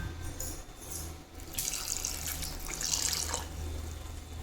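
Water pours steadily for a couple of seconds, splashing and trickling over broken pieces of jaggery, with a faint hum of a kitchen in the background.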